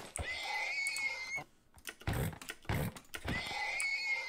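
A video-game horse whinnies twice as it is killed, each neigh a shrill, wavering cry, with a short gap of soft clicks and thumps between them.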